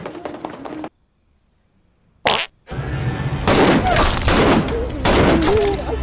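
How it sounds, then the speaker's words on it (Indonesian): Gunfire in a tense film scene: a sharp burst cuts through sudden silence, followed by loud, sustained blasts and crashing noise that fill the rest of the moment. "membuat roh Samsul spontan melepaskan tembakan"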